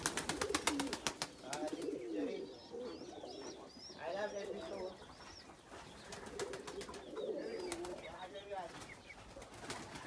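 Pigeons cooing repeatedly at close range amid a busy flock, with occasional chirps and rustling, while a person talks over them.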